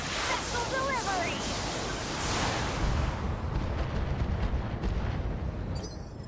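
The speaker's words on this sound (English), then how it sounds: "Missile delivery." Missile strikes in the Battletech game roar as a dense, continuous rumble of blasts, loud and steady throughout, with a voice heard over the start.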